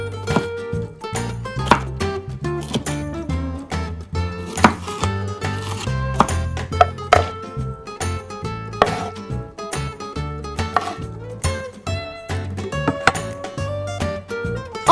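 Chili being chopped in a tiny toy-sized mini kitchen, a quick run of sharp, close knife taps on a small board, steady and rhythmic throughout with no voices.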